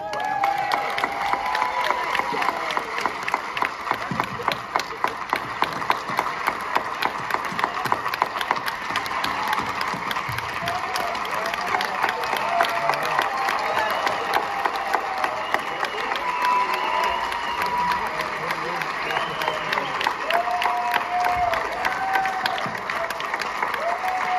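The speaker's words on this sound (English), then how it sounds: "please give a big round of applause for the guy that started it all" A packed audience at a film screening Q&A breaks into loud, sustained applause and cheering for a band member's entrance, with continuous crowd clapping and occasional shouts running for over twenty seconds.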